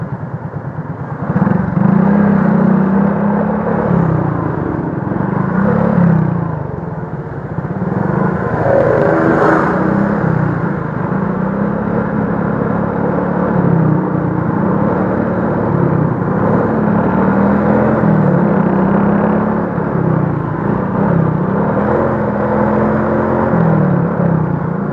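Heard from a motorcycle in slow, jammed afternoon traffic in Tangsel, the bike's engine and surrounding vehicles hum and whir steadily up close. Light revving rises and falls throughout, with no voices.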